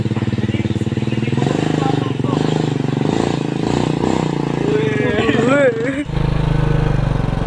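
A Honda Supra motorcycle engine idles and is blipped with the throttle close by, its steady mid-pitched drone rising in short revs before settling, with people talking over it throughout.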